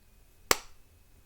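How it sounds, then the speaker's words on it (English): A single sharp clap of hands in the video game Sakura Santa rings out once, crisp and close, against near silence. "I can hear her clap her hands together."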